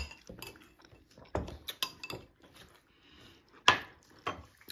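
Spoons clink and scrape against dishes during a meal of mushrooms in a village house, a quiet scatter of sharp taps and clatters at an irregular pace, close by with no talking.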